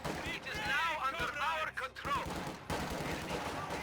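Distant machine gun fire in a Company of Heroes 2 match, with an MG team laying down suppressing bursts on conscripts; the rattling is quiet and mostly under a commentator's continuous speech.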